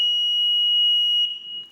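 A bicycle anti-theft alarm siren rated at 110 decibels emits a continuous, piercing high-pitched electronic tone, loud and close, that wavers slightly near the end.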